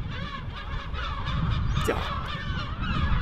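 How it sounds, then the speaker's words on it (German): Gulls screeching and calling over a fishing harbour at Bremerhaven, a steady chorus of overlapping honking cries with one sharper squawk midway, moderately close, a brief spoken word at the start. "Möwengekreische pur"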